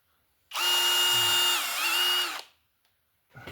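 Power drill boring a hole during assembly of a Kiama hopper, a loud steady whine of about two seconds that dips briefly in pitch mid-run and then stops.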